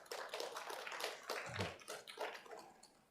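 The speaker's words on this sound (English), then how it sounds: "could we give them a round of applause?" Quiet applause rises from people at a council meeting for a visiting University of Hawaii class. The soft, uneven clapping comes in bursts, with a low thump in the middle.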